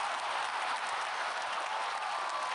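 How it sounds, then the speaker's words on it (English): Steady applause fills the whole stretch, a dense even wash of clapping at moderate level with no voices over it. "let's get some applause and praise."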